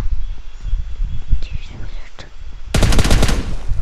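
A PUBG match in which a rapid burst of automatic gunfire erupts loud and close near the end, after a stretch of quieter game ambience with a voice talking over it.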